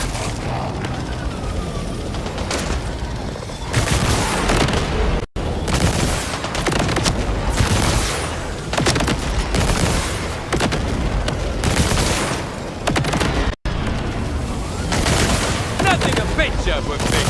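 Dense gunfire from Borderlands 4 rattles almost without pause, with bursts of automatic fire and heavy booms layered over one another, loud and close throughout.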